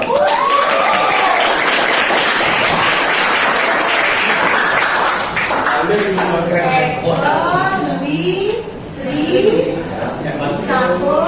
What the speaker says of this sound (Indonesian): Tepuk tangan sama kamu dulu.